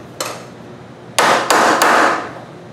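Hammer blows driving a punch into sheet metal to mark drill points while building a large DIY Uncle Sam arm-waving whirligig: one light tap followed by three loud, sharp metallic strikes in quick succession, close and alone with no talk.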